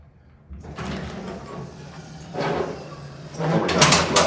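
Worn Westinghouse service elevator doors at a DoubleTree hotel in Skokie, Illinois, slide with rumbling, rattling scrapes in several surges, the last one loudest with metallic clatter, over a low mechanical hum.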